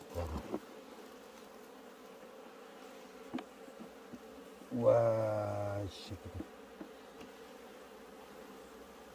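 Asian honey bees (native Korean bees) buzz on a comb frame during a hive transfer at an apiary. A steady low hum swells into a loud, close buzz for about a second, and a man briefly exclaims.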